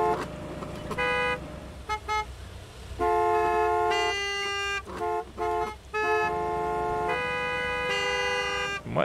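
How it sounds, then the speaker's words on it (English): Car horns in the Gas Station Simulator video game blare in repeated long, loud honks with short gaps, several overlapping bursts across the stretch and no talking. "Honk, honk, honk, honk, honk!"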